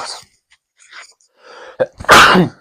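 A single loud, close sneeze bursts out during a podcast recording, after a few quiet breaths and soft sounds.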